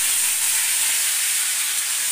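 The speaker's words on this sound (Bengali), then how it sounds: "এবার আমি এখানে টমেটোটা দিয়ে দেবো।" Tomatoes hit hot oil seasoned with salt, turmeric, cumin powder, red chilli powder and green chillies, giving a steady close hiss and sizzle with no talking.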